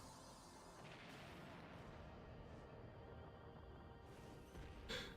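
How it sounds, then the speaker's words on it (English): Stock explosion effects from the video game Parasite Eve, a sustained rumbling, crashing roar lasting several seconds, with a brighter burst near the end. "Those stock explosions are just amazing."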